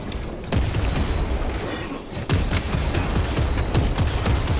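Heavy bolter fire in the video game Space Marine 2 comes as sharp gunshot bursts over a dense, continuous background of battle noise, with several distinct loud cracks spaced through the clip.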